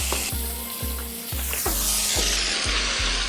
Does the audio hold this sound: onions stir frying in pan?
yes